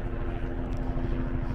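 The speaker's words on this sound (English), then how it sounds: "So you can hear the helicopters overhead" Helicopters pass overhead near Victoria Falls in Zimbabwe, a steady loud broadband engine and rotor drone that runs without a break across the whole moment, with a low hum beneath it.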